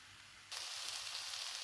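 Eggplant pieces frying in a hot pan, a bright steady sizzle that jumps up suddenly and then holds, close and alone with no talking.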